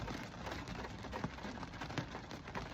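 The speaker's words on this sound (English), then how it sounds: "The rain's getting bad" Steady heavy rain hisses across a broad band without a break, with scattered louder drops hitting nearby surfaces and no voices.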